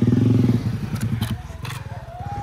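Motorcycles putter close by on the Muaro Aie Alpa road with a steady low throb and a few clattering knocks as they pass.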